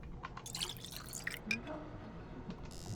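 Water trickles and drips into a bottle in the video game Pathologic 2, a quiet series of small splashy drips and liquid plinks with faint background ambience.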